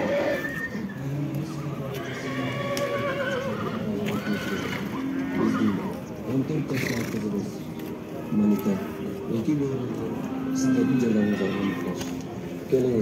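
Horses whinny and neigh repeatedly at a busy livestock horse market in Karakol, mixed with hoof clatter, crowd chatter and background bustle at moderate distance.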